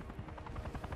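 A helicopter in the Call of Duty Modern Warfare III campaign gives a faint, steady rotor chop with a rhythmic pulsing throb throughout.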